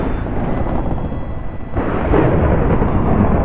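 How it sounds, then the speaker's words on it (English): Loud, rumbling lightning thunder in Minecraft, a continuous broad roar that swells and grows heavier partway through, with no voices over it. "wow, that lightning is loud."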